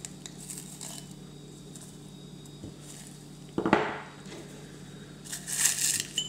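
About five grams of dried mint poured into a glass gives a close, faint dry rustle and crinkle that swells in a short burst midway, then returns as a brighter patter near the end over a quiet room hum.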